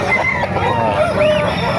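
A rooster crows loudly and close by at a chicken market in Calumpit, Bulacan, its drawn-out call ringing over nearby clucking.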